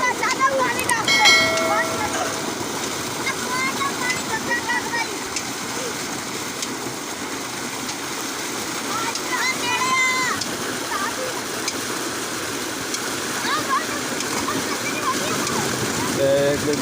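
Water splashes steadily from a village tubewell as children bathe beneath it, a continuous near splatter and rush of flow with people talking and faint voices throughout.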